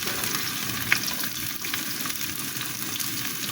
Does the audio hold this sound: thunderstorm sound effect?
no